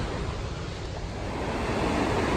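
A thundering waterfall and river on a mountain trail in Diamond Park, heard up close as a loud, unbroken rushing roar with no talk.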